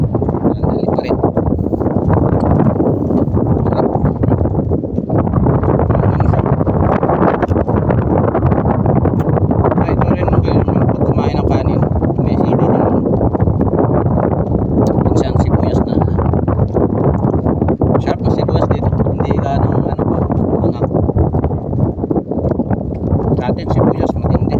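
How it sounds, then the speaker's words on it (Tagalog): Strong wind buffets the microphone outdoors, a loud continuous rumbling roar with gusts, while people talk over it throughout. "Lakas talaga ng hangin dito."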